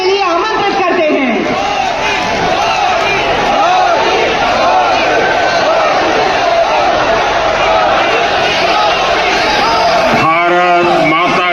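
A large crowd roars with cheering, applause and chanting voices to welcome Prime Minister Narendra Modi at a gathering in Bhuj, Kutch. The sound is loud and dense, and a continuous wall of voices fills the whole stretch.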